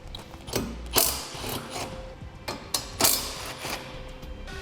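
Ratchet wrench loosening 12 mm bumper bolts on a 2006 Yamaha Kodiak ATV, with quick repeated clicking strokes in short bursts, close and fairly loud, no talking.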